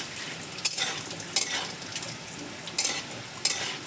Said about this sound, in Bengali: আলুগুলো সুন্দর করে লাল লাল করে ভেজে নিয়েছি